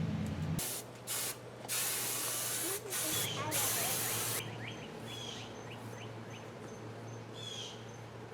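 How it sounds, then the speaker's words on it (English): Small compressor-driven paint sprayer set near 40 psi spraying a fine mist, a loud steady hiss with brief stops and restarts, a compressor hum beneath and a voice heard briefly. "that little sprayer is cool for little projects"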